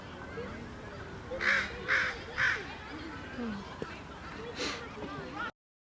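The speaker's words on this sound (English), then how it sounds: "Oh, the crows." Crows caw in three quick harsh calls, then a fourth a moment later, sounding moderately near over a quiet outdoor background, with people talking softly.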